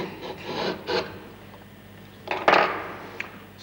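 A hand engraving tool with a V-shaped gouge scrapes through a woodblock in short rasping strokes, then cuts one longer, louder line, close and alone with no talk.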